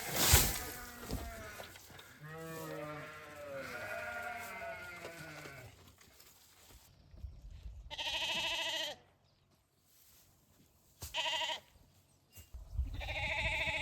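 A newborn lamb at the end of spring lambing bleats close by in several wavering calls with pauses between, over faint farm background noise.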